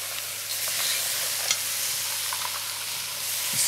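Dried chilies and spices get stirred in a pan for a seafood bisque, a steady bright sizzle with a few light scrapes and taps of the spoon, close and moderately loud.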